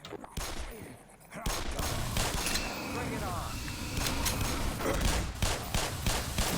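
Rapid-fire gunshots from a weapon in the video game Black Mesa crackle in dense bursts, loud and close, mixed with other game sounds after a brief quieter opening.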